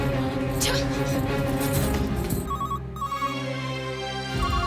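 A phone ringtone plays in a repeating electronic pattern, steady and fairly loud, mixed with background music and voices.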